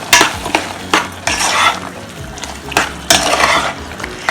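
A spoon stirs cucumber curry in a pan, loud close scrapes and clatters coming in irregular bursts over a soft sizzle, alone without talk.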